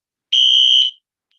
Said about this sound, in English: It's a fire alarm, but I'm going to see if it's real.